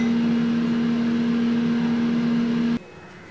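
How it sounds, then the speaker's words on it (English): An air fryer cooking raw banana chips, a steady close electric hum and fan whir with a strong constant tone that cuts off abruptly near the end, leaving quiet room noise. "You don't have to switch off the air fryer."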